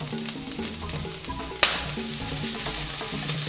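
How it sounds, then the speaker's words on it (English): Broccoli stems and leaves sizzle loudly in a hot wok during a stir-fry, a steady close crackle with clattering tosses and one sharp clank partway through, no talking. "Listen to that sizzle."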